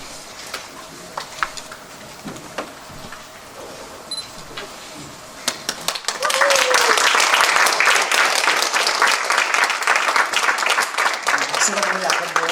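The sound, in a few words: congregation applause at Korean church ceremony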